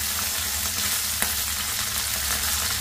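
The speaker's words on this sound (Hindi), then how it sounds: "तो ऐसे ही हल्का हल्का हम फ्राई करेंगे" Pothi fish frying gently in a pan, giving a constant close hiss of sizzling oil with one brief tap partway through and no voices.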